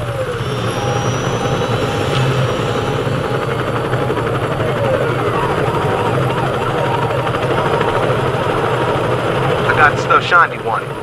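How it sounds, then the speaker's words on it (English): In Saints Row 2, a helicopter sits on a rooftop, its engine and rotors making a loud, steady roar that runs through the whole clip. Voices talk over the noise. "Helicopter on the roof."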